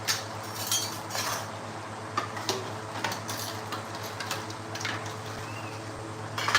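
Dishes and metal utensils clink and clatter while being washed, with scattered light clinks and knocks over a steady low hum, fairly close, and no one speaking.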